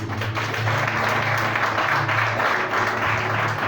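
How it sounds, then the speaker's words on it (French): A church congregation applauds and cheers continuously at a sermon, a dense, steady wash of clapping and voices filling the room throughout. "Si tu es d'accord, acclame le Seigneur."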